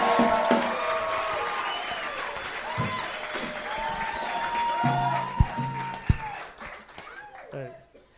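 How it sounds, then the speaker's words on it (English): A comedy show crowd breaks into applause and scattered cheering, clapping steady for several seconds as voices talk over it before it fades out. "give him a fucking round of applause"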